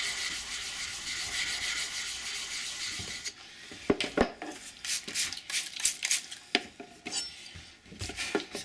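A blade is rubbed over wet sharpening stones, a steady gritty scraping at first, then uneven strokes and clicks of handling, close and fairly quiet.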